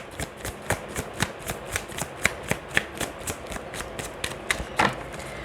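Tarot cards are shuffled in rapid, rhythmic riffles, a series of close, crisp papery flutters repeating roughly every quarter second with no talking.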